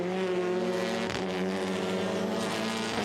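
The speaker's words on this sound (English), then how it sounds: "Let's watch this group of cars one more time on the main straight." TCR touring race cars sweep along the Salzburgring main straight in a TCR Eastern Europe race, several loud, high-revving engine notes overlapping and shifting pitch as the group passes close by, with no talking.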